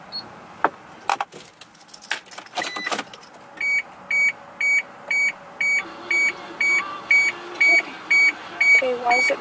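A car beeping repeatedly in a steady regular rhythm after the doors open and keys jangle, close and fairly loud, with a person speaking over it.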